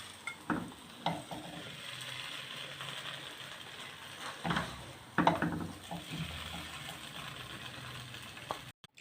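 Semolina halwa made with desi ghee being stirred and scraped out of a pan, giving close, intermittent scraping and clinking strokes in irregular bursts over a quiet background, with no voices.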